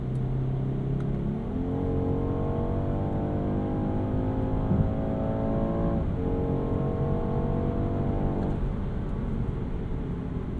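A 2025 BMW 230i M Sport's engine pulls steadily under acceleration, its tone climbing through the revs with a brief shift break partway, loud and close with no talk.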